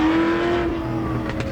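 Race car on a hill-climb practice run at a King of the Mountain event, engine droning loud and close in a steady high pitch before the tone shifts down briefly.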